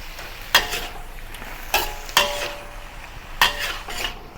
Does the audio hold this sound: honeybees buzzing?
no